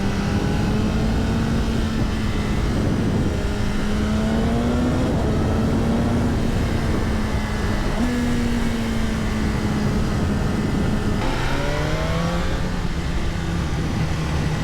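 A 2025 BMW S1000RR M Sport sport bike engine, held by a break-in rev limiter, revving up close in a series of rising, smooth pulls that settle back to a steady drone.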